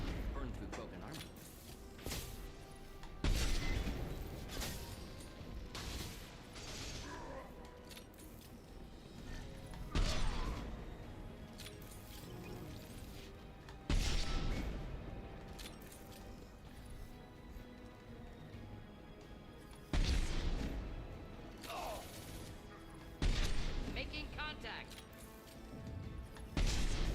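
Gunfire and explosions from Mass Effect combat against an armored Krogan, with loud sharp blasts recurring every few seconds over continuous game noise and someone talking throughout.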